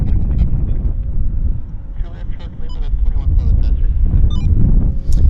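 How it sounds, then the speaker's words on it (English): Wind buffets a microphone in rough, rumbling gusts at an airport, with a steady engine drone beneath, and a voice speaks over the noise. "Look at the wind. That's the wind moving the camera. We've got some gusts here."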